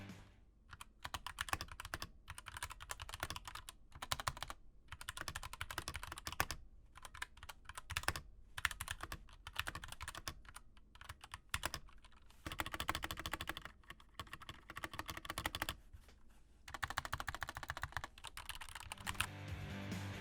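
Rapid typing on a Mizar MZ60 Luna mechanical keyboard with Gateron Red switches, light clacky keystrokes in quick bursts with brief pauses, close and clear.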